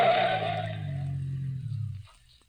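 Radio drama sound effect of a car rounding a curve and pulling off to the side of the road: a loud, close tyre skid that fades into the steady hum of the engine for about two seconds, then drops to near silence.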